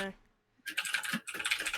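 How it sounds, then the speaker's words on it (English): Loud computer keyboard typing comes in rapid bursts of sharp, clattering key strikes, close to the microphone, after a brief quiet gap, with a short pause mid-way before the clicking resumes. "Man, your keyboard is loud."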